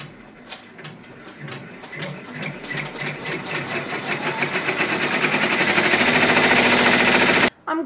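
A multi-needle embroidery machine stitches placement lines for white star points on a quilt block, a rapid steady mechanical chatter that builds louder over several seconds before a brief cutoff near the end.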